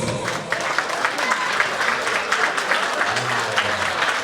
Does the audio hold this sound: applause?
yes